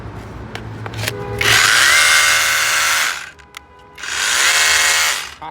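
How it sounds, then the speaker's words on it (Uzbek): A cordless perforator rotary hammer drill runs in two loud, steady high-pitched bursts, the first about two seconds long and the second slightly shorter, with a short quiet gap and a few faint handling clicks before and between them. "Eng zo'r yoqqan tomoni perforator bo'ldi-da"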